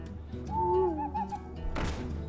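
A card owl from Hearthstone gives a descending, gliding hoot-like call in the game, followed by a short burst of crowd-like noise, with no one speaking.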